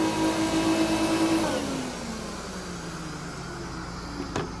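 A Hoover Dimension 1000 vacuum cleaner running at full suction, a loud steady motor whine whose pitch drops and eases as it settles, ending in a brief click, with no talking.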